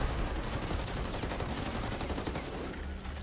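Weapon fire in Ghost Recon Breakpoint forms a loud, continuous roar of rapid shots, dense and unbroken, tapering slightly near the end.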